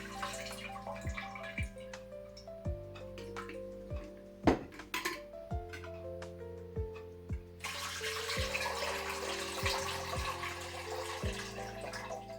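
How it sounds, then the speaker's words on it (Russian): Liquid drains from a jar of canned tomatoes. Light clinks and drips come first, then a steady pouring rush joins partway through, all under background music. "Сливаю жидкость помидоров"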